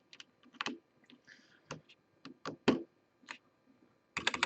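A keycap is pressed onto an Azolt half-mechanical keyboard, a close, quiet series of plastic clicks and taps in irregular bursts, ending in a quick cluster of sharper clicks.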